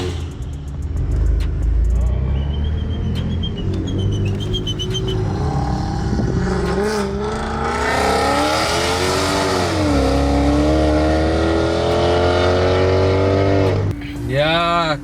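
High-powered cars running on ethanol and methanol, including a drag-prepped BMW F80 M3, rev hard and close, engines rising and falling through loud sustained pulls with a sharp rev burst near the end, while a voice talks underneath.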